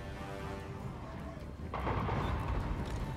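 Dwarf artillery fires in a Total War Warhammer battle against orcs, a loud rumbling boom coming in halfway through over a low drone of battle noise.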